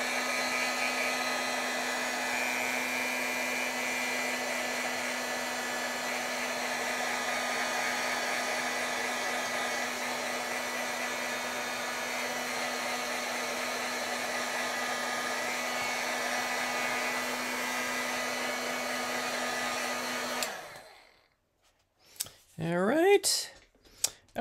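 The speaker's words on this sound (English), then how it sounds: "I'm going to heat set this a little bit." An electric heat tool blows steadily for about twenty seconds while setting stamped ink, a loud constant whirring hum that then cuts off, followed by a few brief handling sounds.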